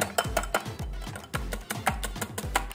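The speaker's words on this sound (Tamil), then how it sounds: "எக்கியோக்கை மிக்ஸ் பண்ணுறோம்" Egg yolk being mixed in a bowl for homemade waffles, a rapid run of clinking taps as a utensil strikes the bowl in an uneven rhythm, close and fairly quiet with no voices.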